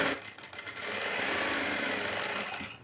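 A sewing machine runs in a fast, continuous whir as it stitches a blouse lining, starting with a few short stop-start bursts and then settling into a steady, even hum at moderate volume, with no voices.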